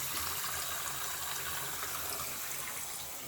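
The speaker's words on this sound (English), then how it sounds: "I'm going to let the hot water drain." Hot water drains out of a house's plumbing after the main supply is shut off during a bathtub repair, a steady, even rushing flow at moderate level with no speech.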